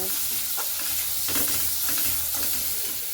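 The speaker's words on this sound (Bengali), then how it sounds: "পটলের বিচিটা দিয়েও একটু ভালো মতো করে ভেজে নেব।" Pointed gourd seeds frying with onions in a pan make a close, steady sizzle layered with scraping from repeated stirring.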